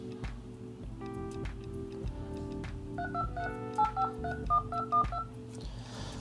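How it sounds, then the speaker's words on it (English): Keypad tones sound on a Revvl smartphone as a phone number is typed in, a quick run of distinct beeps over soft background music. "I'm going to type in a phone number and then we're going to call that number right now."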